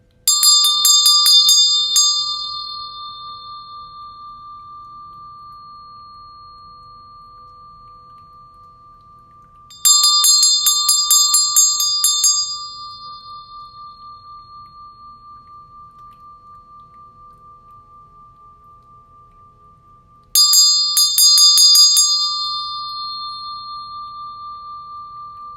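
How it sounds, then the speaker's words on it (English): A high-pitched bell brought from India is rung three times at even intervals, each a bright, clear strike followed by a long pure tone that slowly fades, alone in an otherwise silent room. "I'm going to ring this very magical bell that Casey got me when she was traveling to India."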